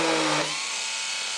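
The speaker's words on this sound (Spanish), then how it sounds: "en lugar de una broca de 5 voy a seguir usando la taladradora pequeña y pongo una fresa" A small electric drill fitted with a milling bit widens a 5 mm hole in a power-supply project enclosure, whining loudly and steadily at first, then dropping to a quieter, lower spin as it winds down.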